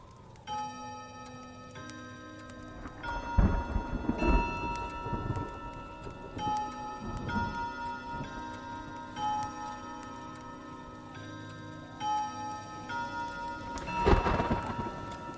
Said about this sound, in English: a storm rages outside the mansion